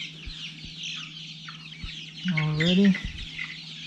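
Four-week-old chickens on a farm, including young roosters, cluck softly near the microphone with a louder clucking call in the middle, under faint background chatter; a single brief word is spoken.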